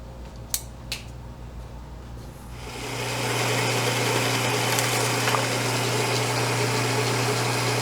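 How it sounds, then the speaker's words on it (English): Piece of tubing cut during TIG torch replacement work: two quick, sharp snips close by, followed by a steady mechanical hum that rises and holds. "I'll just cut off a little bit of this."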